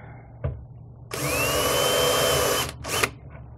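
A power drill starts a hole on a boat while an LED light is fitted. A brief tap comes first, then a loud, close whine for about a second and a half, followed by a short second burst.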